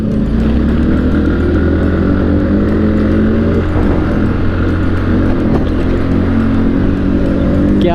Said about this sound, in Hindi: और आवाज देखो स्प्लेंडर की।